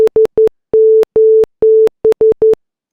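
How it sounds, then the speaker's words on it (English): A steady electronic oscillator tone from p5.js sounds while a mouse button is held, keyed on and off in a Morse-like pattern: three short beeps, three long ones, then three short, loud and clean with silent gaps. "for as long as I hold the mouse down, the oscillator starts and plays its tone"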